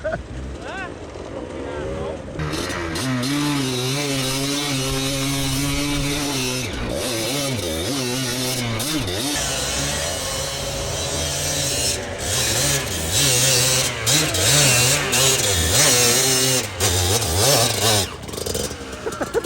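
A Stark Varg 80 hp electric motocross bike revs hard with a rising and falling whine that swells and dips over about twenty seconds. It is loud and close, outdoors, with voices shouting over it.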